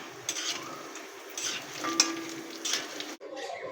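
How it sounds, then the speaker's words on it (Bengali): Lentil vadi (bori) frying in hot oil in a pan, a soft steady sizzle with a few light scraping stirs and utensil clicks, close by and fairly quiet, cutting off near the end. "তেল দিয়ে বড়িগুলো ভেজে নেব বড়ি ভর্তা করার জন্যে।"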